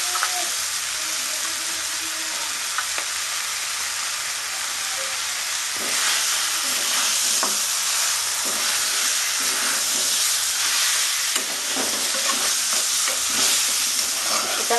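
Mutton curry spices sautéed and stirred in a pan, Bengali style, a loud constant hissing sizzle with repeated scraping strokes of the spoon throughout, and no voices over it.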